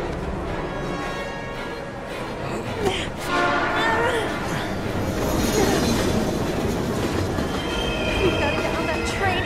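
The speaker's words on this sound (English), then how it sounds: "We've gotta get on that train, Ethan." A train rushes past in the video game Heavy Rain, a loud, dense roar of wheels and rattling carriages with squeals and clanks. It runs steadily for several seconds, close by.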